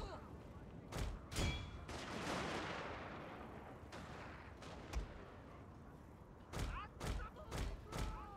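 Musket and rifle volleys striking cavalry in a Total War: Shogun 2 Fall of the Samurai historical battle, a series of sharp gunshots and booming reports, some clustered together, over a rumbling battlefield din.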